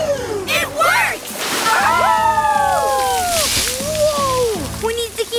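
Cartoon water gushes and splashes from a leaking pipe in a steady loud rush, with whooshing swoops and a voice talking over it.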